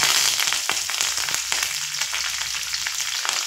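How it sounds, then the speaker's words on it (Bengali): Whole cumin seeds, two slit green chillies and a few curry leaves hit hot oil and sizzle loudly and continuously, crackling and spitting close up with no voices. "এবার এখানে ফোড়নে দেব গোটা জিরে, আর দিয়ে দেব 2টো চেরা কাঁচা লঙ্কা, আর দেব কয়েকটা কারি পাতা।"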